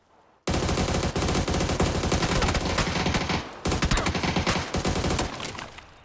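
Rapid automatic gunfire from the PUBG video game, heard during an esports match on the Taego map, rattles almost without pause in loud, dense bursts with only brief gaps between them.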